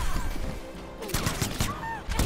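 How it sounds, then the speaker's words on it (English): Rockets and machine gun fire burst in a Mortal Kombat X fight, with booming explosions and rapid gunfire bursts, loud and layered, over a dense game soundtrack. "More rockets and machine gun fire."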